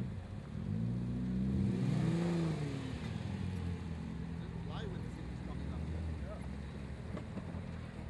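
A 4x4 off-road vehicle without diff locks revs hard at a national 4x4 challenge, wheels spinning in loose sand as it fights for traction. Its engine note rises and falls loudly before settling into a steady drone under outdoor wind.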